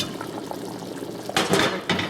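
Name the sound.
soup boiling in a pot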